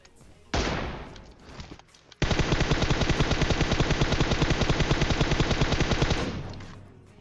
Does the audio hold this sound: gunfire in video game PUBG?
yes